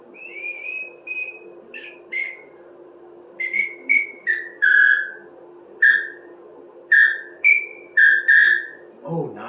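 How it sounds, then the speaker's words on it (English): Short, shrill blasts from an LPA 229 samba whistle, a few single toots followed by a quick rhythmic series of sharp chirps, close and clear against a quiet room hum. "It has a very traditional sound. Just like the wooden samba whistles."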